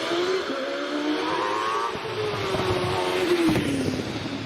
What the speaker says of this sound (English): Tony Hunt in the Gould GR55, well DJ55, means it's been modified by DJ